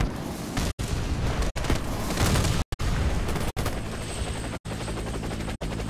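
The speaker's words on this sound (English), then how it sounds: "Helicopter is inbound. Prepare for extraction." A helicopter arriving for extraction in the Warface video game, loud continuous rotor roar mixed with dense gunfire and booms, broken by several brief sharp dropouts; no talk.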